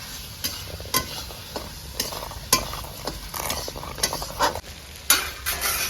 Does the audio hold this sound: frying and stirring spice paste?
yes